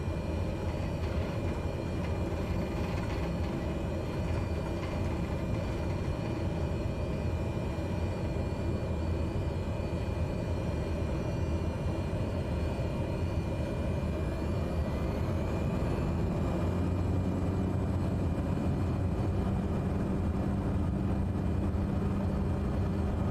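Small airplane engine held at high idle through a takeoff roll in gusty wind, a steady broadband roar with a low throbbing drone that stays loud and close for the whole stretch, with no talking.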